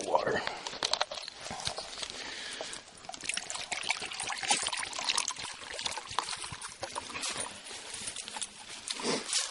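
Water trickles and splashes as it is poured outdoors for a dog to drink, a close bright stream running for several seconds with someone speaking over it.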